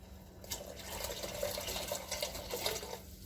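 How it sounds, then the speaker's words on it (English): Water is poured from a tap or container into a pot of chicken broth for homemade chicken and dumplings, making a steady, soft splashing trickle with a low hum in the kitchen background. "I think I'm going to just add a little water to it."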